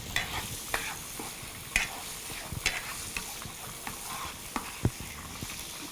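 Chopped ham and pasta are stirred in a hot pan, sizzling steadily under frequent scraping and clinking from the spoon, close and fairly loud, with no voices.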